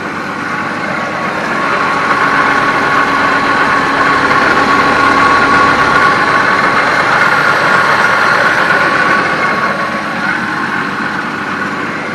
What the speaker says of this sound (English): so I'm just going to let it idle, let it burn off some stuff